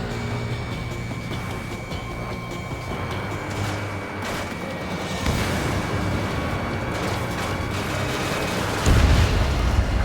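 A destroyed target explodes in the Ace Combat 7 flight game, a dense roaring rumble sustained throughout with a heavier low boom swelling near the end, no talk over it.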